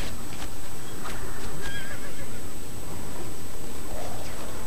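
A horse neighs several times in the Lego Lord of the Rings video game, loud and close over a steady game background with faint hoofbeats and no talking.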